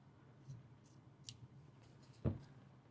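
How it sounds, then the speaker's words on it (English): Scissors snip fabric applique pieces close by in a quiet room, a few faint crisp cuts spaced apart and then one louder, sharper snip near the end, with no talking. "And a smaller pair of scissors would come in handy here"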